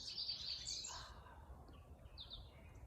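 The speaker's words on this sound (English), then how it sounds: "oh my gosh, the prettiest birds just flew through my yard. They have little yellow tummies and heads." Small birds with yellow bellies and heads chirp as they fly through a backyard, with a few high, faint tweets over a quiet outdoor background.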